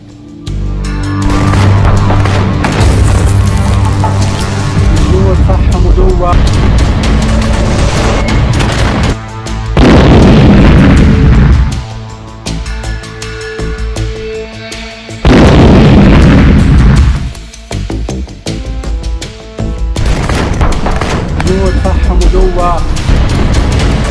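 Bombs and shells explode during the Israel-Hezbollah war, a loud, dense barrage of booms and blasts in several heavy waves, with a voice talking through much of it.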